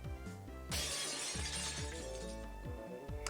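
Something shatters in a restaurant in the video game Higurashi, a bright glassy crash bursting over gentle background music and then lingering as a scattered tinkling tail.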